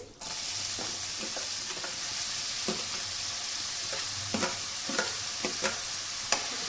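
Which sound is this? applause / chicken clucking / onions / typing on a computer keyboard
onions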